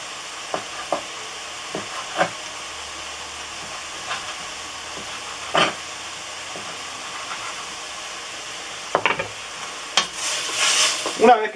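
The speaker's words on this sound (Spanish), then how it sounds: "Una vez que ya más o menos está salteado ya la cebolla y los 2 morrones" Onion and two bell peppers sauté in a pan for Spanish-style tripe stew, a soft continuous sizzle broken by occasional utensil scrapes and a louder clatter near the end.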